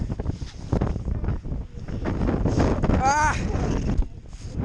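Strong wind in a snow storm buffets the microphone in gusty roaring bursts, with a short vocal exclamation partway through.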